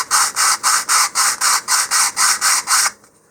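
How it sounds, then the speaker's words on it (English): A model rocket fin's leading edge sanded with 150 grit sandpaper, eleven even, rasping back-and-forth strokes in a steady rhythm, close and loud, then stopping. "I'm just going to round the leading edge here, starting with some 150 grit sandpaper."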